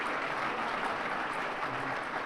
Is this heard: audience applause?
yes